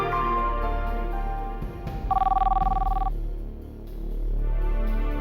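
A mobile phone rings once with a warbling electronic tone lasting about a second, standing out over a low, steady background bed of music and noise.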